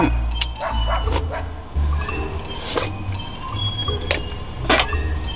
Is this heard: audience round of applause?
no